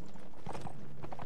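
Horse hooves clip-clopping during a ride through open countryside in the video game Mount & Blade Warband, a short run of soft, moderately close hoof beats under faint background ambience.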